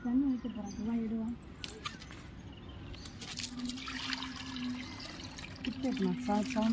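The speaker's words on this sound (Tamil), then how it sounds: "தண்ணி வைக்க போகிறேன்." Water pours and trickles into a clay pot set out for birds during hot weather, in uneven splashing bursts, while a person talks nearby.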